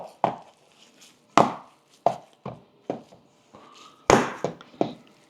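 Rotel dip being stirred together in a skillet, with a run of sharp, close scraping knocks of a utensil against the pan at an uneven rhythm, separated by brief quiet gaps.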